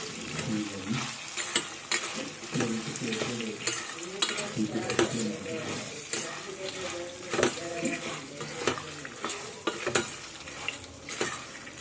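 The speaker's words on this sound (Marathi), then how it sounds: "पुटाणी बरे भाजू जाय" Roasted gram is stirred and toasted in a pan for a dry poha snack, with continuous scraping and rattling of the dry pieces against the metal and a light sizzle throughout.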